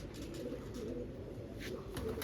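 Green-eyed pigeons kept as a hobby cooing softly, a few low repeated coos over steady background hum, close and fairly faint, with no talk.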